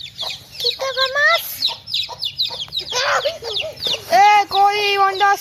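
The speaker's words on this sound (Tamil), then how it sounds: "இங்கே தான் குட்டி கோழி இருக்கு." Baby hens in Sivaganga cluck and peep in quick bursts, close and loud, with a voice talking between and over the calls.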